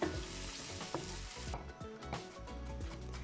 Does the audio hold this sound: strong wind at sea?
no